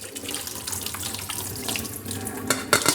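Liquid and calamari pour through a strainer into a kitchen sink, a loud close splashing rush that surges and splatters toward the end.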